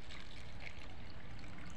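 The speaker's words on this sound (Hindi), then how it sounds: "ये डिस्पोजल में हम एक में पहले पानी डालते हैं" Water poured into a disposable cup, a soft steady trickle and splash running continuously, faint and close with no voices over it.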